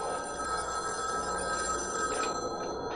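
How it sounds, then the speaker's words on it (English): A telephone bell rings continuously and fairly loudly for a few seconds, with no talking. "Your phone's ringing."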